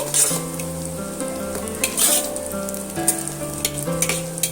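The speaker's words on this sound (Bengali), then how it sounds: "ডিমগুলো আমার এখানে ভাজা হয়ে গেছে" Eggs sizzle steadily in a hot frying pan for an egg curry, with occasional stirring and faint clinks of a utensil against the pan, close and continuous with no talking.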